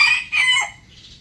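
A rooster crows loudly and close by, one drawn-out call that breaks into a rising, strained cry before fading.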